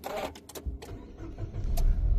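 A Nissan Almera starts from its push-start button. A few clicks and a short crank come first, then the engine catches and settles into a steady low rumble that grows louder toward the end.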